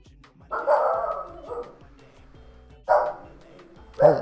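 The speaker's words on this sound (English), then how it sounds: "I swear that's not me barking, that's my dog." A pet dog barks nearby indoors in three short bursts, loud and close with gaps between, over a faint background hum.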